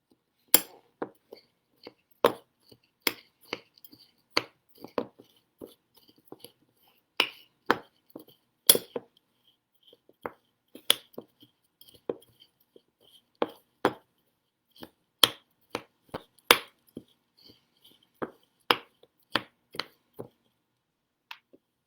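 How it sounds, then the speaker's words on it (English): A spoon mixing rolled oats and Nutella in a bowl for energy bites, giving a steady series of sharp clinks and taps against the dish, close and fairly quiet. "Leave it in the center and start bringing all the oats towards it and mix it"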